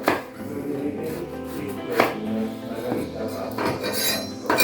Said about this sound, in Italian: andiamo a ridurle prima a fette e poi a quadri